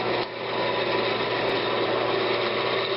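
A wood lathe spins a spalted oak blank as it is trued into a cylinder, a steady whirring hum with a continuous rasping hiss of the cutting tool, close and unbroken for three seconds.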